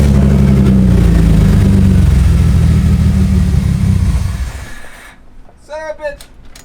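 A BMW E30 with an S52 engine and two mufflers runs rough, its loud low exhaust rumble holding steady for several seconds before dying away, followed by a short burst of a voice.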